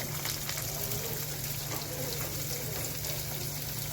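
Chopped onion goes into hot oil for suji upma and is stirred, making a dense, even frying sizzle with soft crackles over a low steady hum.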